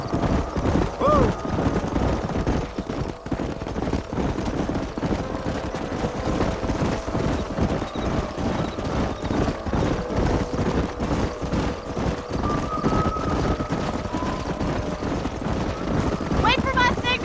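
Horses gallop in Red Dead Redemption, a steady run of clip-clop hoofbeats that carries on under scattered talk and game sounds, with a faint whinny early on.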